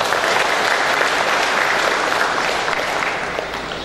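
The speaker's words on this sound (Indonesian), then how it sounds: "saya sekali lagi kita berikan aplaus bersama" An audience at a provincial development planning forum opening in Central Papua applauds in a dense, sustained burst of clapping that slowly tapers off toward the end.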